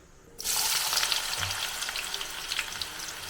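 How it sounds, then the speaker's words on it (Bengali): A large onion drops into hot oil with cloves and cinnamon, and silence gives way abruptly to a loud, crackling sizzle that keeps popping and hissing up close without voices. "এবার আমি দিয়ে দেবো পেঁয়াজটা"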